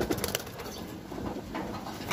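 A pigeon visits a loft, giving soft low cooing calls up close amid light rustling and wood handling noises.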